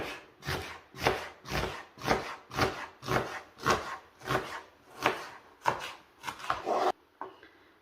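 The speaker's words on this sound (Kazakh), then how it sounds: "Алдымен жуамызды әрлеу етіп турап аламын." Steady knife chopping of onion on a wooden board, about a dozen even strokes in a regular rhythm, close and clear, with no talking.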